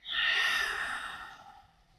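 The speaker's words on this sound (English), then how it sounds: "I'm going to flood your body with oxygen here. Breath infusion." A single forceful, breathy exhale during a breath infusion exercise in a standing yoga flow, close and loud at onset, then tapering off over about two seconds.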